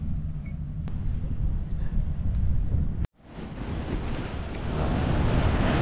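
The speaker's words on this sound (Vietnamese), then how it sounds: "Gió hù hù, sóng biển thì đánh àm àm àm luôn." Strong wind roars and sea surf crashes steadily on the beach at Ba Tri, a dense, continuous rush with a momentary dropout midway before the loud, close waves and buffeting wind resume.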